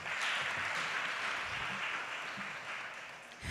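Audience at a postgraduate welcoming event applauding, a dense, continuous wash of clapping that holds steady and fades slightly toward the end, with no talking over it.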